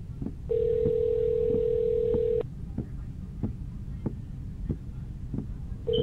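Ringback tone of an outgoing telephone call: a steady buzzing tone holds for about two seconds, breaks off, then starts again near the end, over faint rhythmic thumping and low background noise.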